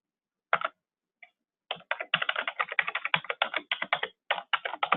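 A password typed on a computer keyboard at a desk: a lone key tap, then a quick run of close, crisp keystrokes in uneven bursts, with no talking.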